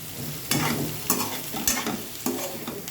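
Egg fries in hot oil in a pan for egg-stuffed capsicum curry, a steady close sizzle broken by four evenly spaced bursts of stirring and crackling.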